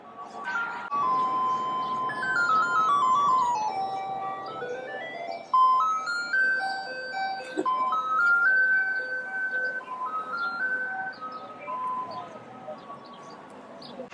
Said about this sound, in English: It's an ice cream truck.